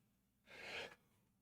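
A single short sneeze bursts out faintly for about half a second, alone against quiet room background.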